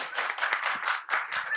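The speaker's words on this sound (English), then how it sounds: "Can all of you just clap hands for me" An audience at a business technology summit claps together in a quick, ragged burst of hand claps, close and fairly loud, with no talking over it.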